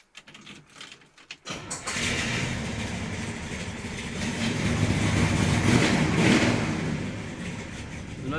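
A 1967 Chevrolet Impala engine starting up: a few quiet clunks, then the engine catches and settles into a loud, steady rumbling idle that swells slightly before leveling off.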